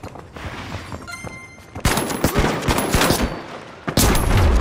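Rapid gunfire in the video game The Finals, dense bursts of automatic shots that get louder and more intense toward the end, with no clear speech.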